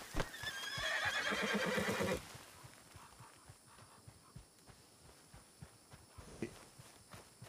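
A horse gives a loud, close whinny lasting about two seconds, followed by a few scattered hoof clops and small knocks.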